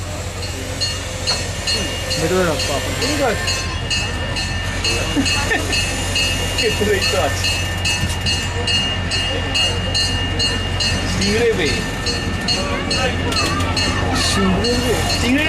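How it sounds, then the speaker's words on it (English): A small zoo train rolls along its rails with a continuous rumble, clicks and squeals, while people talk over the ride. "We hope you enjoyed your train ride today"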